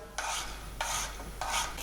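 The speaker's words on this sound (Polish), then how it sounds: "I na gorącą dodaję cebulę." Three bursts of hissing sizzle from onion dropped into hot oil, each surging and then settling, with no voices.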